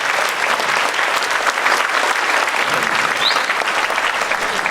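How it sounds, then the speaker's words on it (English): Audience in a school gym applauding a high school honor band at a district band festival on Maui, dense continuous clapping throughout, loud and close with no break. "Round of applause for the honor band."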